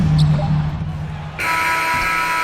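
An end-of-quarter buzzer sounds in NBA 2K22 during a Timberwolves vs Grizzlies playoff game, blaring loud and steady for the last second or so after ball bounces and arena noise.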